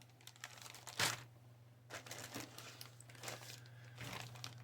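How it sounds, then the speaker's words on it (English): A plastic bag holding sprues from a Trumpeter 1/350 Liberty Ship SS Jeremiah O'Brien model kit crinkles faintly, with scattered brief rustles and one sharper crackle over a steady low hum. "Next plastic bag has 2 sprues in it."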